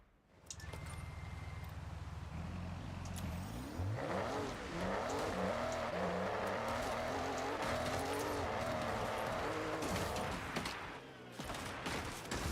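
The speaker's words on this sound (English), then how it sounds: "A drift Ferrari." A Ferrari drifting in the Forza Horizon racing game: a loud engine revving and wailing through rising and falling pitch sweeps, with tire squeal and skidding running continuously underneath.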